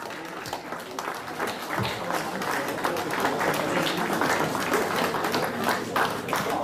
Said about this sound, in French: Donc l'équipe de Bichwiller avec son président Roland Reb, on peut les applaudir, champion de France des clubs